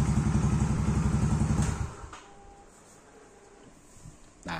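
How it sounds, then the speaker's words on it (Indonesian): Motorcycle engine idling with a steady throbbing putter, then cutting out abruptly as it is switched off, leaving near silence with a faint click and a few small clatters afterward. "Oke, saya matiin lagi motornya."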